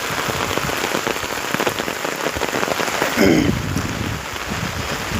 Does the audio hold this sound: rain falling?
yes